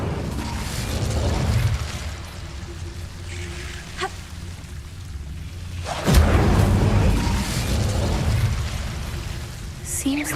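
A fire spell cast in Hogwarts Legacy bursts out with a whooshing crackle over rumbling game ambience, with a second sharp flare midway through and a steady roaring mix afterward.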